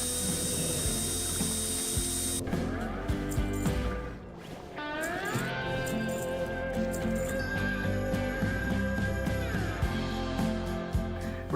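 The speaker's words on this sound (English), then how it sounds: "So now we need to bolt this down and then figure out the steering." A ratchet clicks rapidly and repeatedly as bolts are tightened on a homemade vehicle. The bursts of loud, close mechanical ratcheting come in several runs over the whole stretch, with no talking.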